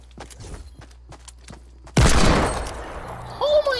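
Gunfire in the video game Fortnite breaks in suddenly as one loud, close burst after a quieter stretch with faint background game sounds, followed by a further short crack.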